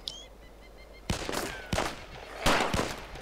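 Sharp, loud gunshots in the ARMA 2 DayZ mod at an airfield: about four spaced cracks, each with a short echoing tail, following a quieter stretch of faint chirping ambience.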